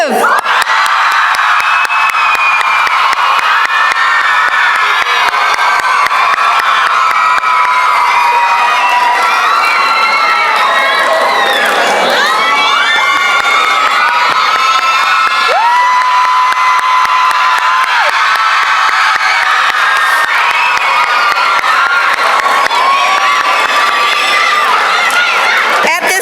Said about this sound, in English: I want to see how loud you guys can scream for Munira Yusuf.